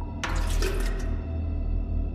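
Water spilling and dripping in a video game, a splashy burst of liquid in the first second that trails off into quieter drips over a steady low background hum.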